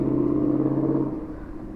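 A 2020 Harley-Davidson Low Rider S with an S&S 475C cam on its first ride, its V-twin rumbling steadily and close up at a constant loud level for about two seconds, with no talk.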